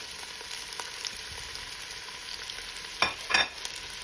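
Onion sizzles quietly in hot oil for a Mexican potato and cheese soup, a low continuous fry with two louder stirring scrapes near the end.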